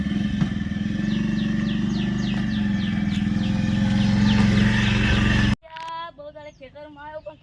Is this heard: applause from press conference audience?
no